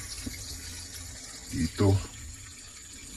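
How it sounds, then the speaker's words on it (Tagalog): Water from a natural spring runs in a steady, soft hiss throughout, with someone briefly speaking over it. "Dito umaagos yung tubig."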